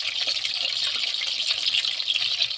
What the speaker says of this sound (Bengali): দেখুন পকোড়াগুলো কত সুন্দর ভাজা হচ্ছে, কত সুন্দর কালার আসছে।